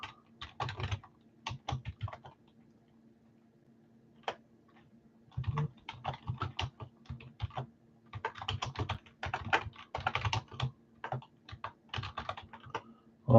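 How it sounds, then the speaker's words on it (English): Fingers type on a computer keyboard in bursts of quick clicking keystrokes. A few seconds of near silence break the typing before it picks up again, close and fairly quiet over a faint steady hum. "I'm going to type."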